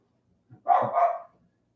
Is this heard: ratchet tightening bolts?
no